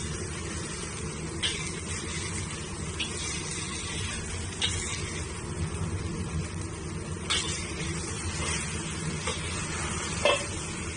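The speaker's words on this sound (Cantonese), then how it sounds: "先燒紅個鑊，俾油，俾個雞蛋先" An egg fries in oil in a red-hot wok, giving a steady close sizzle with a few brief sharp crackles and scrapes, and no talking.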